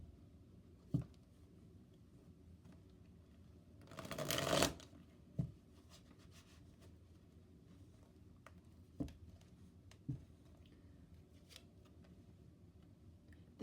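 A tarot card deck being shuffled, a burst of riffling cards about four seconds in with scattered light taps and clicks before and after, quiet and close.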